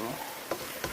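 Cauliflower and broccoli sizzle steadily while stir-frying in a pan, a continuous close hiss with two brief stirring clatters.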